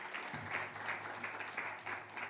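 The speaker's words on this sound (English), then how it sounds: "Another round of applause for Ms." Audience applause at a Ring the Bell for Gender Equality event, a steady, moderately distant wash of clapping lasting throughout.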